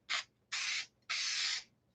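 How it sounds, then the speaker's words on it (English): A spray can gives three quick test bursts while making an action figure card back, short hissing sprays with the last one longest, close and clear against a quiet background. "So I'm going to do a quick little test spray here."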